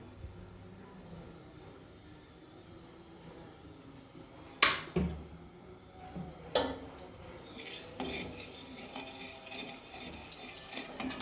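Oil heats in a wok (kadai) with a quiet, soft sizzle, broken by a few sharp metallic clinks and stirring scrapes partway through.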